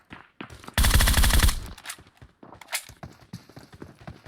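In an online shooter match, a loud rapid burst of automatic gunfire rings out, followed by scattered quieter shots and footstep-like clatter.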